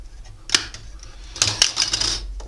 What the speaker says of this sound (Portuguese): Aqui eu vou cortar aqui o excesso do fio.